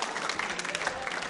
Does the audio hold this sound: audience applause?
yes